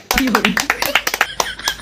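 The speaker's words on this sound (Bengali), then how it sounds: "হাততালি দাও সবাই হাততালি দাও" A group of students in a coaching centre claps hands in quick, uneven bursts, close and fairly loud, mixed with overlapping voices.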